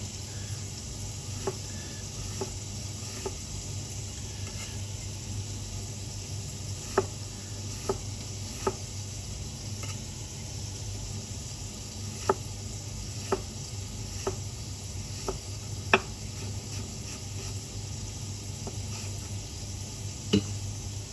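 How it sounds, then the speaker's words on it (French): Intermittent knife taps on a cutting board while onion is finely minced for a creamy coquillettes with lardons, faint sparse clicks a second or so apart over a steady background hum. "Et là, on va émincer ça finement."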